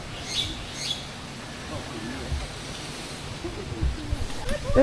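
Small birds chirp and tweet in short bursts over a rushing outdoor background at Singapore Zoo, the calls light and scattered, getting busier toward the end.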